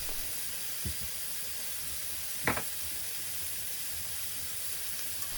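Tomatoes and chicken tikka frying in a pan for a British Indian restaurant-style bhuna, a steady close hiss and sizzle throughout, broken by a couple of brief clinks or stirs.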